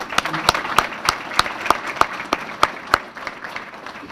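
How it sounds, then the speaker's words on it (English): An audience at the 2019 Grove City Chamber dinner applauds, with sharp, evenly spaced claps standing out over a softer patter of crowd clapping for a few seconds. "So let's give Beth a round of applause for that."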